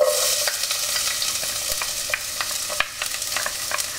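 Chopped garlic and diced yellow onion fry in a pan for a pork monggo dish, giving a steady close sizzle broken by scraping clicks as the pieces are stirred. No one speaks.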